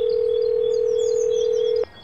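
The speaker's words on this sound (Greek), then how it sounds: "Κάτσα πάρω ένα τηλέφωνο." In the FarmVille video game, a telephone dial tone hums as a loud, steady, unbroken pure tone for nearly two seconds, then cuts off abruptly after a short click.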